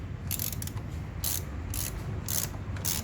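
A ratchet clicks in short close bursts as it loosens the rear suspension preload nut on a Royal Enfield Himalayan motorcycle. Four or five crisp clicking runs sit over a low rumbling background.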